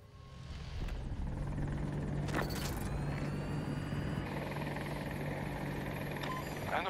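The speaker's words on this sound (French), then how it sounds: "Les hélicos de combat, c'est pas la même chose." A combat helicopter in the video game Battlefield 2042, its rotor thudding in a steady drone at moderate distance, with a few sharp mechanical bursts over it and no speech.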